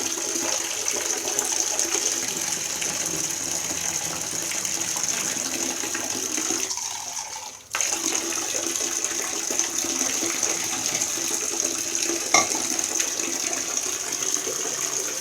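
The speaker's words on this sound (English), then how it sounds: "And now I'm going to pour it in the tub as it's still filling up" Water running steadily from a tap into a filling bathtub, a continuous broadband gush with a brief drop partway through before the flow resumes, heard close with no talk.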